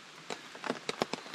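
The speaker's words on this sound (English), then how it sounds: "it's a nice dreary drizzling rainy day" Light drizzling rain on a dreary morning of a multi-day hike, falling on a tarp as a faint background hiss with a handful of soft, irregular drop taps close by.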